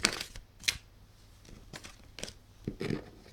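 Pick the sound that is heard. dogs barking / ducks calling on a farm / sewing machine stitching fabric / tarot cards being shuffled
tarot cards being shuffled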